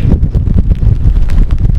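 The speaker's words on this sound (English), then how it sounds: "It's a bit more windy and wet this side" Steady, blustery coastal wind at a lighthouse in Brittany buffets the microphone, a low rumbling roar that gusts unevenly throughout with no other clear sounds.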